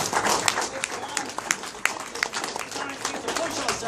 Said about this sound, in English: everybody, give yourself a round of applause for being here